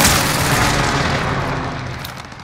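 Enemy Controller gunfire in a first-person shooter match, a dense loud booming burst of shots that holds steady then slowly tails off, with no talk over it.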